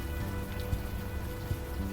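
Steady rain falling in the video game Unavowed, a constant dense patter on surfaces with no breaks and no voices.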